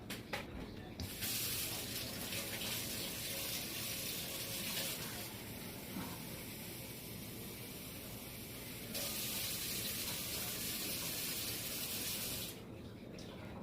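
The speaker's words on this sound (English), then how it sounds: "Now, I just get the warm water out of the tap." Warm water runs from a kitchen tap, a steady hissing stream that changes tone as a container fills, faint and close, with the flow briefly stopping near the start and end and no talk.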